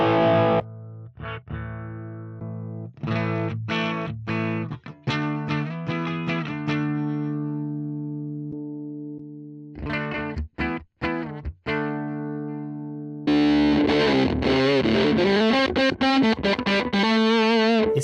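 Heavily fuzzed, distorted electric guitar amp tone from an IK Multimedia Tonex pedal: loud choppy chords and single notes with short gaps, ending in a dense sustained wash of fuzz, with no voices.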